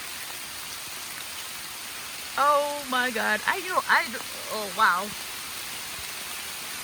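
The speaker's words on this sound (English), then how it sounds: "It just started pouring." Heavy rain mixed with hail pours down in Pennsylvania as a steady, fairly faint hiss, while a person exclaims in surprise partway through.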